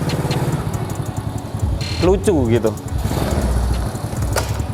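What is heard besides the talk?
modified Honda Astrea Grand motorcycle engine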